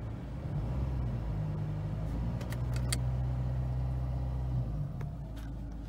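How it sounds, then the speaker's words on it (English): A Vauxhall Astra 1.3 CDTi diesel engine idles with a steady low rumble, rising in a brief rev, while faint high turbo whistles and clinks come through above it. "You can hear the turbo whistling when that noise is making."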